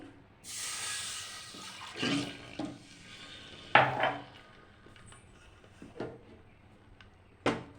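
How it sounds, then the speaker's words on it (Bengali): Water poured from a cup into a pan while making a milk-based caramel sweet, a broad splashing hiss at the start, followed by a few sharp clinks of a utensil against the pan, close and fairly quiet. "আর এখন আর 1 কাপ জল দিয়ে দিচ্ছি।"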